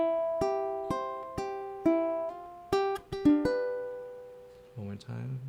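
Plucked guitar strings play a melody, alternating a thumbed open E with melody notes: about a dozen clear, ringing single notes in an even, unhurried rhythm, close and fairly quiet, with a brief low-pitched sound at the very end.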